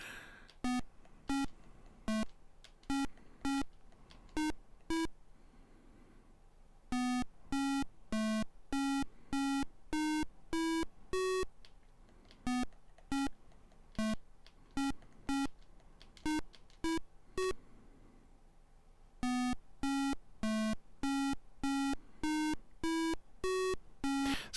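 Simon-style memory game tones from the Atari 2600 game Brain Games: sequences of short, clear electronic beeps at shifting pitches, played in rhythmic bursts with brief pauses between rounds, alone and fairly faint.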